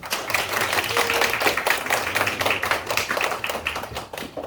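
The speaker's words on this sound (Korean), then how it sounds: "토론회를 시작하는 힘찬 박수로 저희 한번 시작해 보시죠" Brisk applause from the audience opening a medical association presidential candidates' debate, a modest group clapping in a fairly even, energetic rhythm, loud and close, then thinning out at the end.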